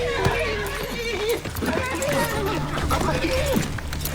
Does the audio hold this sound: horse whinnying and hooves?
yes